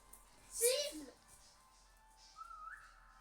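A person whistles during a horror video game, a bright brief note followed by a voice, then a rising sustained whistle tone later, fairly close and quiet.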